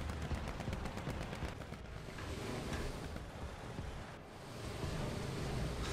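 Machine-gun rounds strike a T-14 tank in a tank video game, a rapid rattling burst at the start followed by a heavy rushing, rumbling roar of engine and battle noise, moderately quiet.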